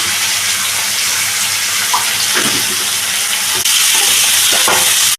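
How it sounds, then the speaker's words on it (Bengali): Potato and pointed gourd pieces sizzle steadily in a hot pan while a spoon stirs and scrapes, with a few louder clanks near the end; no voices. "এটাকে কিন্তু আমি ভালো করে কষিয়ে নেব, আরও ভাজা ভাজা করে রান্নাটা করব।"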